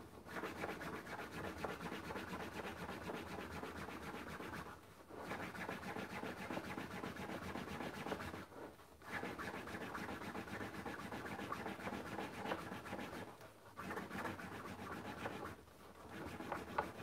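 Canvas rubbed briskly along the edge of a tooled leather belt to slick it, a continuous close scratchy friction sound in long runs broken by a few short pauses.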